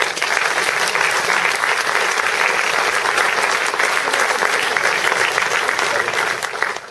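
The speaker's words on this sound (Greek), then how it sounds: "να σας χειροκροτήσουνε" Theatre audience applauding throughout a Greek folk stage play, dense steady clapping that holds at a loud, even level for the whole stretch and tapers slightly at the very end.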